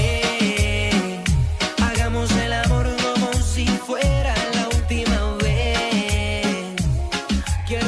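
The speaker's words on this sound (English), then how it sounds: "I don't know if you've heard any of his music, but it sounds like this." Reggaeton track by a footballer who also works as a DJ, with a steady thumping kick and bass beat under layered synth melodies, loud and continuous with no talking.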